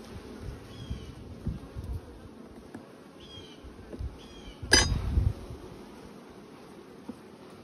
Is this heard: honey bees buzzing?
yes